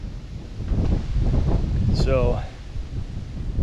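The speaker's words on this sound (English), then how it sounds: "it's windy. That's what makes it so tough, is the wind." Heavy wind buffeting the microphone outdoors in the cold with a low rumbling roar, while a person speaks briefly over it.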